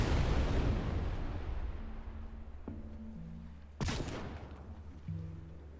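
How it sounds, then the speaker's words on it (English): A big cannon in the Trailmakers building game fires in loud explosive blasts, a heavy boom near the four-second mark after a rumbling start, with mechanical tonal hums between shots and no talk. "this cannon actually inspired the creation of the anti-everything gun"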